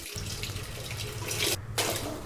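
A top-load automatic washing machine filling with water, a steady close rush of running water like a tap pouring into the drum, continuous throughout with a brief dip near the end and no talk.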